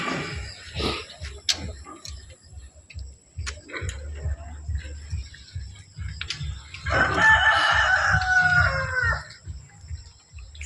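Farm chickens cluck and cackle nearby while a rooster lets out a long, loud crow partway through, over a low background of grunting and shuffling livestock, with no voices.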